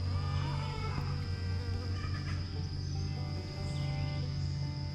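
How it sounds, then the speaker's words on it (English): Bees buzzing around flowers outdoors, a continuous close droning hum with steady pitch, joined by faint insect and background noise, with no talking. "You guys are just busy little bees."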